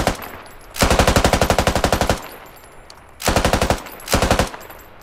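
Automatic gunfire in a 50 vs 50 squad battle video game, with loud rapid bursts of machine-gun fire in three separate volleys and brief pauses between them.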